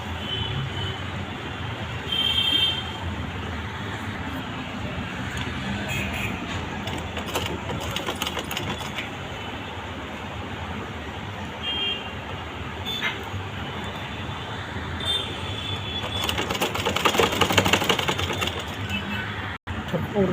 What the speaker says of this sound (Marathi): आणि शिलाई मारून घ्यायची.